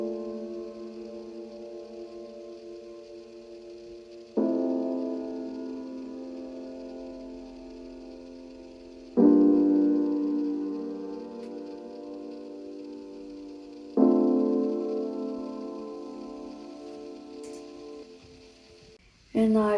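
Sustained piano chords with high and low frequencies trimmed, four separate chords struck at even intervals, each ringing out and slowly decaying, clear and alone.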